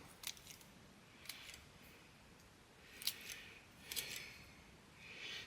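Pruning shears snip blueberry plant branches outdoors, several sharp, crisp clicks spaced a second or two apart, close to the microphone over a soft, steady background hiss.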